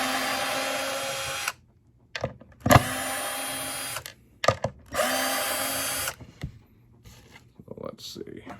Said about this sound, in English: Perfect for screwing plywood to plywood.